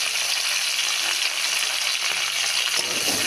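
Whole cumin seeds, bay leaf, ginger, tomato and green chili spit in hot oil in a pan, giving a steady, dense, close sizzle that runs without a break.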